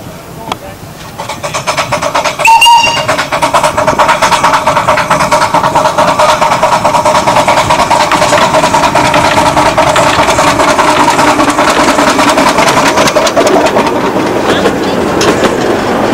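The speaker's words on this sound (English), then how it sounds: "We'll wait there now till the other train comes," A Cleethorpes Coast Light Railway train engine arrives, its loud, steady mechanical rumble building after a faint start and carrying on continuously, with rhythmic clicks running through it.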